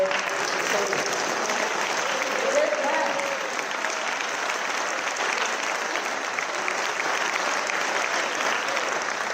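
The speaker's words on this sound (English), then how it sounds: "So big clap for your founder." An audience at a centenary celebration breaks into sustained applause, with loud, even clapping that fills the hall for several seconds while a voice speaks briefly over it.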